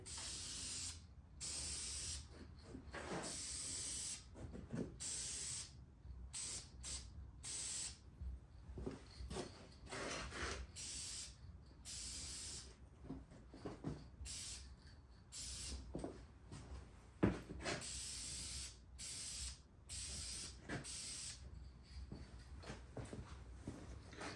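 Spray paint hissing onto an SBC 383 stroker engine block for a light second coat, in repeated close bursts separated by brief gaps, steady and alone without speech.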